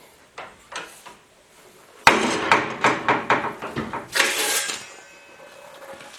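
A hammer bumps a stiff stainless steel sheet held in a metal brake to finish a 90-degree bend on a rocker panel for an International Scout, landing a quick series of close, sharp metallic blows after a few lighter taps.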